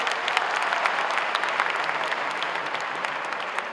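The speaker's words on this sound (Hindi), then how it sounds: "उनके बैंड के लिए जोरदार ताली।" Enthusiastic applause for a children's band at a Chhattisgarh state event, a dense crowd of hands clapping steadily and loudly for the whole stretch.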